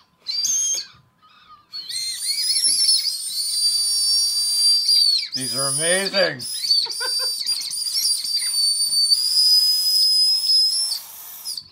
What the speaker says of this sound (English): Like this and see if it'll whistle.